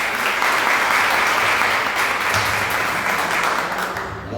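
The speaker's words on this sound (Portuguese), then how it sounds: "Uma salva de palmas para a Sucena." A congregation at a church missions service claps in a loud, dense, sustained round of applause for Sucena, the clapping steady and close with no voices over it.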